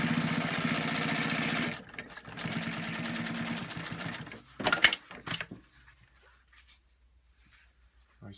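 A JUKI LU-1510N7 industrial sewing machine stitches through material folded over several times, a fast steady mechanical whirr that stops, briefly restarts in short bursts and then falls silent.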